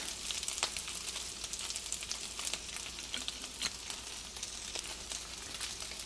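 Fried rice with chicken sizzles steadily in a pan after a splash of sesame oil, a close, continuous crackle with light scraping and stirring.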